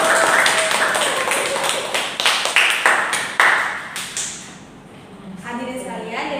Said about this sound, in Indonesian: beri tepuk tangan untuk penanya kita